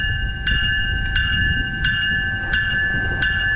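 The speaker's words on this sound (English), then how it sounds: "here's Metrolink 116 now departing" A Metrolink commuter train departs Moorpark station with a steady, loud rumble and high sustained ringing tones, its bell or wheel ring pulsing at regular intervals throughout.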